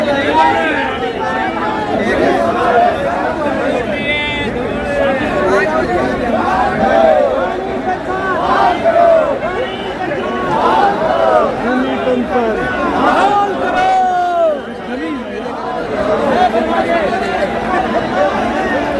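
Loud, dense chatter of a huge rally crowd at Ramlila Maidan in Delhi, countless overlapping voices in close, steady babble throughout, with a nearby speaker talking amid the throng.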